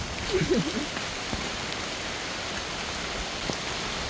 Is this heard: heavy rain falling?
yes